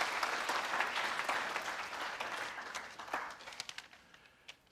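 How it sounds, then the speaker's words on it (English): A room full of people claps steadily, the applause gradually thinning out and fading away. "please can we just give a round of applause again for us for being here today"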